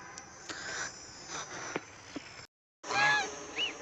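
Silky chickens being carried give a few honking, squawking calls, faint at first and then louder and closer after a brief silence, over a low background hiss.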